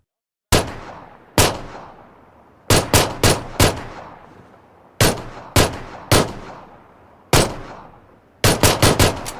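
Sharp, loud gunshots ring out in irregular bursts, single cracks and quick clusters, each with a short echoing tail in an otherwise quiet space.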